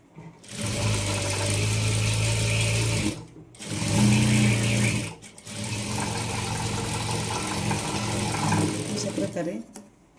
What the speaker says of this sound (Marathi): आपल्याला केळीच्या पानाच्या आकारावर टीप मारून घ्यायची